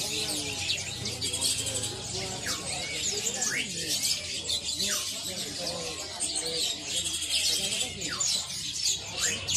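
Caged songbirds at the Pramuka bird market chirp and tweet continuously in a dense, busy chorus, with some cooing mixed in, over a constant market murmur.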